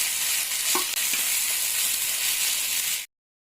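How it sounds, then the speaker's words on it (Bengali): Dried red chillies and chopped onion fry to a reddish brown in a pan, with a steady loud sizzle and a few scraping stirs near the start, then the sound stops abruptly. "শুকনো লঙ্কা, পেঁয়াজটা লাল লাল করে ভাজা হয়ে গেছে। এবার এটা দিয়ে ভালো করে নেড়ে নেব।"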